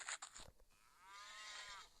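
A cow moos in the game Survivalcraft 2. One drawn-out, low, faint moo rises after some soft clicks, with no talking.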